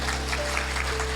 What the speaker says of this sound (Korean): 그 박수 한번 쳐주세요